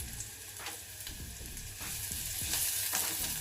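Onions and asafoetida sizzle in hot oil in a steady, fairly loud fry, with spoon strokes through the pan and brief scraping bursts, and no voices.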